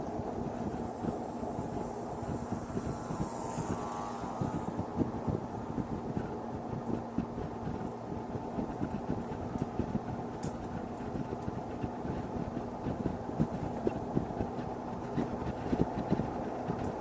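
Continuous wind rushes and buffets against the microphone of a passenger on a moving motorbike alongside a steady engine drone, a dense, unbroken roar throughout.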